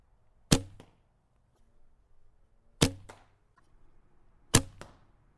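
Three sharp twangs from a cheap bow fitted with limb and string silencers, each a crisp snap with a brief damped ring, spaced about two seconds apart, close and alone.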